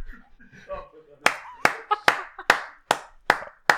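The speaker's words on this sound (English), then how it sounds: "Clap, everyone" Several people clap in sharp, separate beats during a podcast recording, about eight distinct loud claps spaced roughly evenly, following a short stretch of talking.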